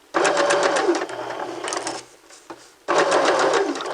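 A sewing machine stitches a gathered sleeve in two loud, close bursts of rapid needle chatter, separated by a short pause with a faint click.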